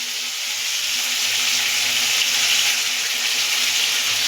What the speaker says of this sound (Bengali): এটাকে আমি নুন দিয়ে অল্প করে নুন দিয়ে ভেজে নেব।